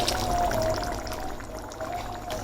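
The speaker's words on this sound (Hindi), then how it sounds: "अब ये जो मछली की यखनी थी अब ये इसके अंदर ऐड कर देंगे सारी" Fish stock (yakhni) poured from a vessel into a pot of fish kofta curry, a steady continuous pouring wash lasting a few seconds, fairly close with a faint tonal whine in the background.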